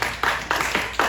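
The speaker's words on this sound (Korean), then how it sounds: "박수." Hands clapping at a church youth service, a few quick broadband bursts in steady rhythm, fairly close and moderately loud with no talk over them.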